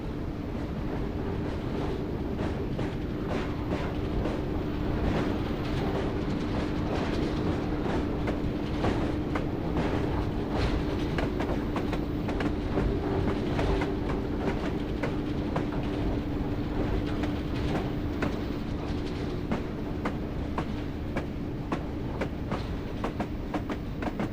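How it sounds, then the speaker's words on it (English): A train coasts steadily along the rails toward a station in Train Simulator 2016 on the Durham to Darlington route via Bishop Auckland, giving a continuous rumbling roll with faint rhythmic clicking from the wheels and no voices. "At this point, I'm just going to allow the train to coast into the station."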